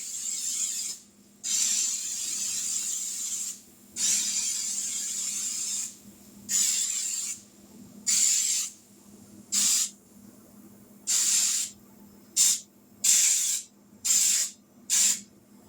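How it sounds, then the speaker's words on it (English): Baker's Joy baking spray hisses from a can into a cake pan in about a dozen separate short bursts of varying length, close and fairly quiet, with brief silences between. "Now I'm using Baker's Joy to spray this with"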